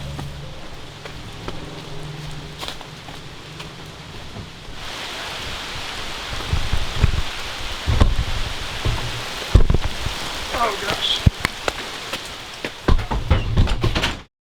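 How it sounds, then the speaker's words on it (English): Steady rain drums on the roof of a van under conversion, a dense hiss with louder, heavier patches and scattered knocks and bumps inside. A person speaks briefly. "Well, it's still pretty rainy"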